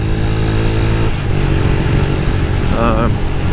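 A Yamaha YBR 125 motorcycle engine hums loudly and steadily up close at high revs, its pitch dropping once and then rising again during a clutchless upshift, with a voice talking over it.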